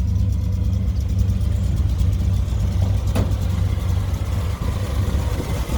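A rebuilt 348 V8 in a 1969 Chevrolet Impala convertible idles steadily up close, a deep continuous rumble with no talk over it.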